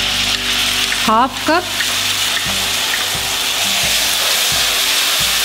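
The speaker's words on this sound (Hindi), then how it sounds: "प्याज हल्का गोल्डन होने पर इसमें डाल देंगे हम इमली का पल्प" Tamarind pulp hits sautéing chopped onions with a loud, constant sizzle. A brief whistle-like pitched tone cuts in early, and soft clinks and stirring follow beneath the frying.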